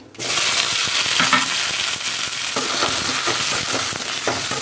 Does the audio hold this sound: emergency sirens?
no